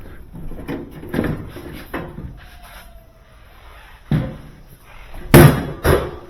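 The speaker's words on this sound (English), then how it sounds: "First, we're going to pull out the drawer." Metal drawer of a Viking Professional VCBB363 range being pulled out, a series of sharp slams and clunks with sliding scrapes, loudest near the end.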